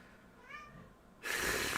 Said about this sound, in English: Why are you yelling, cat?